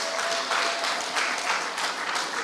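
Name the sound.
audience applause at a meeting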